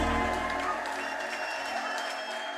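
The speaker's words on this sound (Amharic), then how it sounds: "እልልታ ጭብጨባ ለጌታ ከፍ አድርጉና" A worship congregation claps steadily in a dense, continuous wash of applause, with faint high tones that may be ululation running through it.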